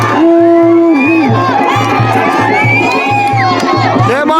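A dense crowd at the Nanda Devi Ashtami village fair in Jaspurkhal, Uttarakhand, shouts, cheers and whoops in loud overlapping voices above a steady, repeating drumbeat.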